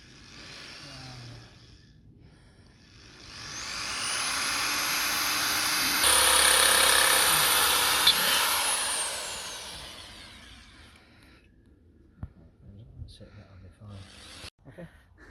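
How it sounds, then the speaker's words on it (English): A power drill bores out rivets on a patio glass balustrade build, a sustained high whining grind rising for several seconds, then the motor winds down, followed by light clicks and handling noises. "I'll get those drilled out and bring them back."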